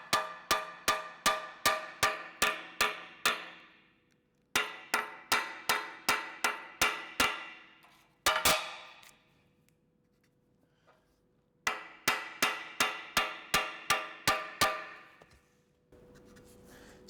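Metal boat keel being tapped near a structural weld: three groups of sharp, evenly spaced metallic strikes, each ringing bright and clear before fading, with one lone loud hit between groups.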